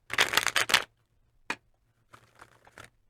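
Tarot cards are shuffled close up in several quick, crisp riffling bursts, followed by a single tap and then a softer, scattered round of shuffling.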